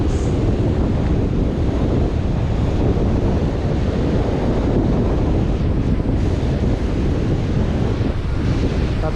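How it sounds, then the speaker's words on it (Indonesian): Strong wind and crashing surf at Ulee Lheue beach in Banda Aceh, with loud continuous wind buffeting the microphone over the roar of waves throughout. "Tapi anginnya begitu kencang sekali, guys."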